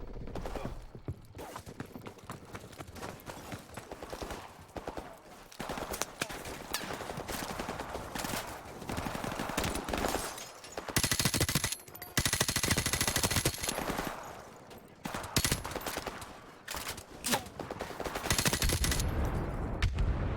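Enemy gunfire in Call of Duty Modern Warfare Remastered, with bursts of automatic rifle fire and sharp shots that come in rapid clusters and brief pauses, loud and close, with a voice talking now and then.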